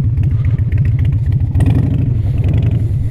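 A Harley-Davidson motorcycle engine accelerates up close with a loud, deep, rapid-firing rumble. The throttle rises and pulses over about three seconds, and a mechanical clatter runs through it.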